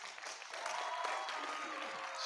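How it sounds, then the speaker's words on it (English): An audience at a National Black Musicians Coalition event in Atlanta applauding, a dense, steady wash of clapping heard from a moderate distance over a couple of seconds. "y'all clap for that."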